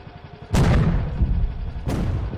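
Two heavy booming blasts from a steel tank firing in the Henry Stickman Collection game, each a sharp loud crack with a long rumbling decay, spaced about a second and a half apart.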